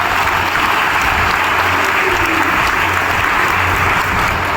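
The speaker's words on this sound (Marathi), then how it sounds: "स्वतःसाठी एकदा जोरदार टाळ्या वाजवा." A large seated audience at a business gathering in Kolhapur claps loudly and continuously, a dense, even roar of applause that neither rises nor fades and carries no talk.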